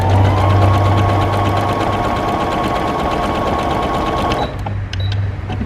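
A sewing machine runs steadily through a dense satin stitch at a 0.5 stitch-length setting, a loud continuous mechanical whir with a fast rhythmic hum, then stops briefly before restarting near the end.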